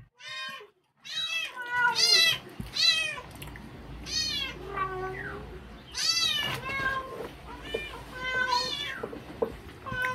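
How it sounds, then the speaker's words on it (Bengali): A cat meows over and over, loud and close, a run of drawn-out, insistent cries with short pauses between them. "ওর মামা ডাকছে আর ও মাও করছে"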